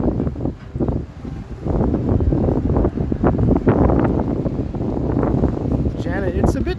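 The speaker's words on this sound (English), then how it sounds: "it's a bit chilly and windy" Wind blowing along a Toronto street on a chilly evening, a continuous low rumble that buffets the microphone in uneven gusts, rising and easing throughout.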